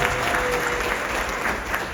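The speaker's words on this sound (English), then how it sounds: "Please give her a big, big round of applause." Wedding guests at a Hindu Vivaah Sanskar ceremony break into dense, steady applause, a full room of clapping hands heard briefly and evenly.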